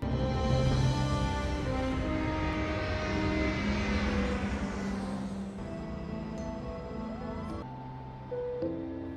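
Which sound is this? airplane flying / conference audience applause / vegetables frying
airplane flying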